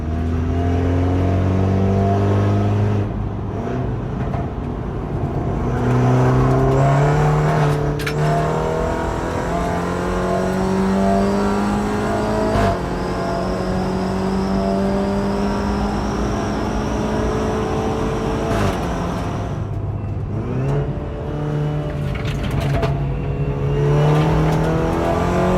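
Car engine revving and accelerating through repeated gear shifts on a test drive, rising pitch sweeps close and loud throughout, with brief throttle lifts between gears and no talking.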